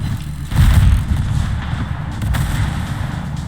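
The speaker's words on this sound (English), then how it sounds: "I really do like that explosion effect." A low, heavy explosion boom from the tactical shooter Rainbow Six Siege bursts loudly near the start, then a rumbling, crackling tail with a second smaller thump follows, with no talk.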